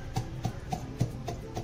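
Flaxseed chutney with salt and red chilli is pounded by hand, giving about six dull, evenly spaced thuds in quick rhythm, close by and moderately soft, with no talking.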